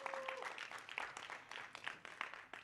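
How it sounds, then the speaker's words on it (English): Participants at a youth climate conference in South Africa give themselves a round of applause, faint and distant clapping from a crowd with scattered sharper claps standing out. "Can we please give ourselves and each other a round of applause?"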